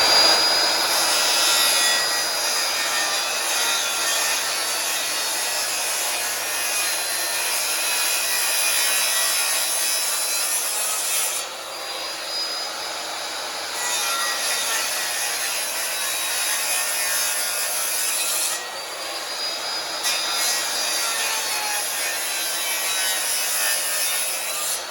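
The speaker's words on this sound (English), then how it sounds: "So I'm gonna notch that out, get a chisel in there and clean it up and get this first post set." Saw and chisel notching a wooden post for a heavy deck, a steady scraping, rasping rhythm of tool on wood that carries on for about twenty-five seconds with a couple of short pauses.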